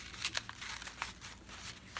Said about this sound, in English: You just get a piece of brown paper that's long, and we're going to fold it up in a circle.